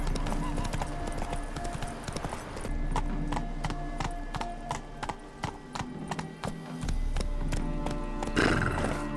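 Roach, a horse in The Witcher 3, gallops with a steady, rhythmic clatter of hooves, loud and close, with a whinny near the end.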